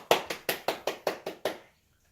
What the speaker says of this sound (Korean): 우와 아니 박수